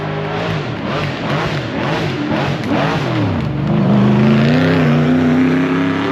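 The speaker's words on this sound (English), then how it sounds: "then it will be one of the full-size NASCARs doing a burnout coming up." A full-size NASCAR race car at the Shelsley Walsh hill climb revs hard through a burnout, its loud engine pulsing and then holding a rising, sustained roar with tyre noise, close by.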